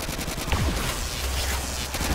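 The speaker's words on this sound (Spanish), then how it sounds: "Disparo con Scar, que es mucho más potente." Rapid automatic fire from a SCAR rifle in the video game Call of Duty: World at War, dense bursts of shots running continuously at moderate loudness with no talk.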